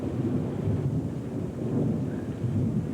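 A heavy overnight thunderstorm with drenching rain over the New Orleans metro area, a dense, continuous low roar of rain and rumbling thunder with no talk over it, loud and steady throughout.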